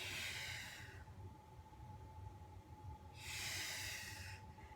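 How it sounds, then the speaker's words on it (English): A person breathes out loudly through the nose and mouth while doing an abdominal exercise. Two strong, hissing exhales sit close to the mic, separated by a few seconds of quieter breathing. "it does really help when you exhale loudly on the way up"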